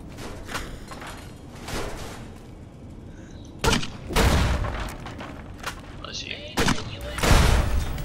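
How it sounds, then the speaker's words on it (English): Gunfire in Fallout: New Vegas: bursts of loud shots at intervals, with heavy booming blasts near the middle and end, over a busy game soundscape. "Opening fire."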